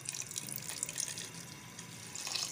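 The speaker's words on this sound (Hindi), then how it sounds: "व्यूअर्स, अब हम इसमें पानी डाल देंगे," Water poured into a pot of haleem during cooking, a faint, continuous splashing trickle with small bubbly spatters, heard alone without talk.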